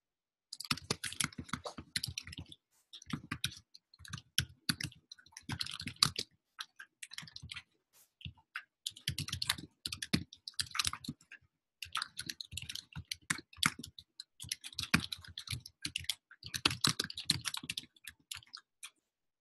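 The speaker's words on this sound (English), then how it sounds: "So I want to hear nothing but typing" Several people typing on computer keyboards during a grant-writing workshop for graduate students, quiet rapid key clicks in irregular bursts with brief pauses, sustained for the whole stretch with no talking.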